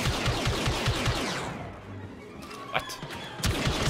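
Rapid automatic blaster fire from the Star Wars Battlefront 2 campaign rattles loudly in a fast burst, briefly lets up, then resumes with sharper single shots.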